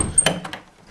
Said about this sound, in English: Let's go and open the door.